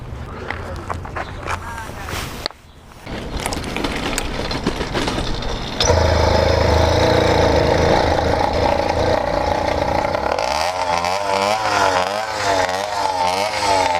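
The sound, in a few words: motorcycle engine and exhaust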